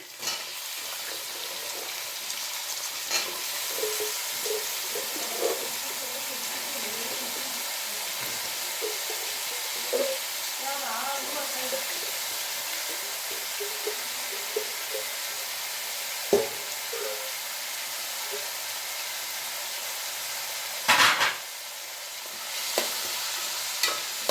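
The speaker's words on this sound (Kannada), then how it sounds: "ಈಗ ಮುಲ್ಲಂಗಿನ ಹಾಕ್ಕೊಳ್ತಿದ್ದೀನಿ ನೋಡಿ" Chopped radish tossed into a hot pan and stirred while frying for a South Indian radish palya, with a steady soft sizzle and scattered scraping clicks of the spatula, plus a couple of louder knocks near the end.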